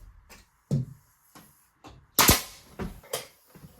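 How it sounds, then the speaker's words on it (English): A pneumatic nail gun drives 16 gauge straight nails into siding, firing several sharp, close thuds spaced irregularly, one louder shot standing out, with no voice over them. "shooting straight nails"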